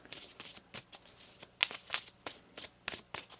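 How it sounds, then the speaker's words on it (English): Tarot cards are shuffled by hand in quick, uneven bursts of crisp riffling and slapping, close and fairly soft, with no talk. "One more shuffle."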